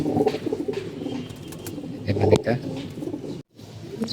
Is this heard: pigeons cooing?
yes